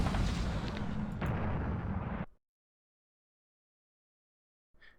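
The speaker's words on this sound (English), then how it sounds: "These guys are blowing me up." Explosions blowing up the player in the video game Iron Storm: a dense, loud roaring blast lasting about two seconds with a second burst midway, then sudden silence and a faint rumble at the very end.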